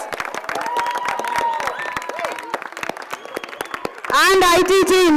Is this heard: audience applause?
yes